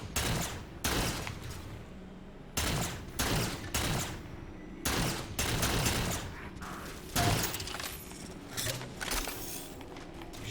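Gunfire in Halo 4 on Xbox One X: repeated loud bursts of automatic weapon fire in rapid volleys, separated by short pauses, with mechanical clatter between shots.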